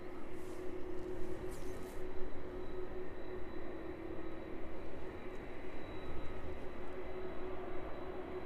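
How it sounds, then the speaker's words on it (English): An aircraft on approach to East Midlands Airport, heard as a distant, steady engine drone with a faint whine, low and continuous under open-air background noise. "the next arrival making its way down towards Kegworth now"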